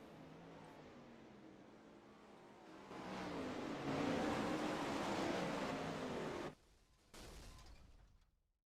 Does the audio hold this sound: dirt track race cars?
yes